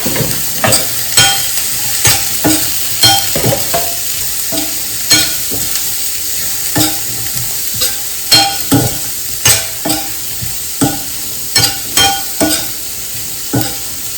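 Radish pods with turmeric and red chili powder are sautéed in a pan, a steady sizzle broken by a regular series of sharp scraping and stirring knocks, close and fairly loud, with no voices.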